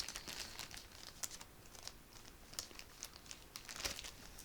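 Plastic packaging crinkles and crackles in close, uneven bursts with sharp peaks, alone and fairly quiet, while a cross-stitch project is handled.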